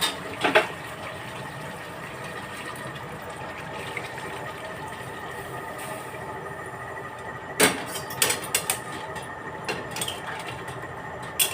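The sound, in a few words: hot water poured into chicken curry pot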